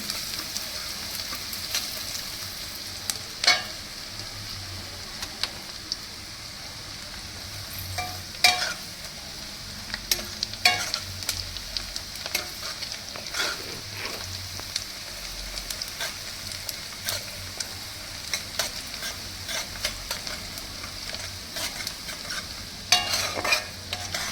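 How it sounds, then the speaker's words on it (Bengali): Finely sliced onion fries in a pan for a pineapple hilsa dish, a soft continuous sizzle broken by repeated scraping stirs and occasional sharper clinks of the spatula. "ভেজে নিই"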